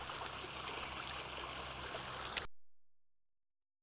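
A river runs in a steady broadband rush of flowing water, continuous and fairly close, then cuts off abruptly into silence.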